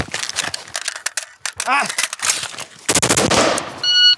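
A Colt 733 Commando rifle is reloaded from a kneeling position and fired. Quick metallic handling clicks lead into sharp, close bursts of rapid shots, with a brief voiced exclamation in between.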